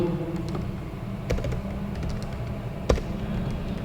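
Rapid clicking of a computer keyboard as C++ code is typed, a steady patter of keystrokes with a few sharper taps, close and alone.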